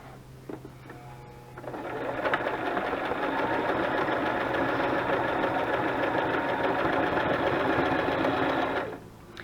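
A sewing machine running one straight line of stitching across a burlap banner: a quiet start, then a steady, fast mechanical whir that holds for several seconds before stopping abruptly.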